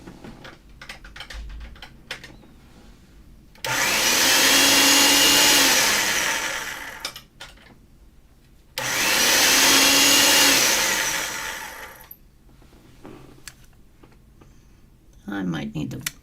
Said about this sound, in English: I'm going to still get this through the pasta machine on the thickest setting